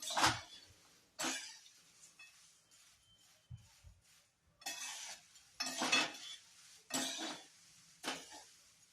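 A spoon stirs and scrapes ingredients in a metal kadhai for a quick healthy breakfast, giving repeated sharp clinks and scrapes in irregular bursts with quiet pauses between them, close and moderately loud.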